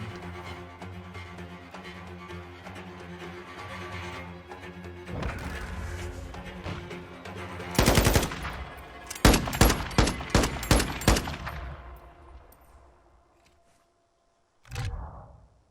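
A Call of Duty esports match between Seattle Surge and New York Subliners. Loud rapid bursts of automatic gunfire crack in close volleys over a music-like game bed, then fade to near silence before a final sharp burst.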